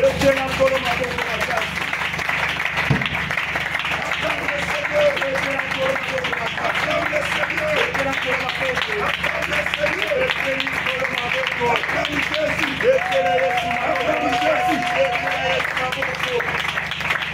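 A church congregation claps and cheers for the Lord in steady, dense, sustained applause, with voices calling and singing over it throughout.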